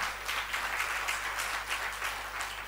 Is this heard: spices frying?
no